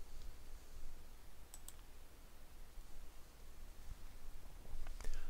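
A computer mouse clicks during a software tutorial. There are two quick double clicks, faint and close, against a soft background hiss.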